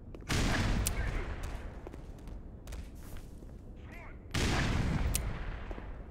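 Gunfire and grenade blasts in the Black Mesa shooter game: two loud explosive bursts, one at the start and one near the end, with scattered sharp shots and rumbling debris between.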